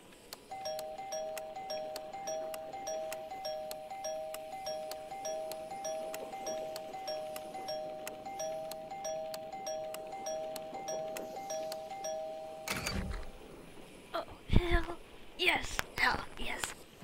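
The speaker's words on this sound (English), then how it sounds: "It's the doorbell. I found the doorbell." A doorbell in the video game Deathloop rings as a steady repeated chime tone lasting about twelve seconds, fairly faint under a soft background, followed by a few louder thumps and clatter near the end.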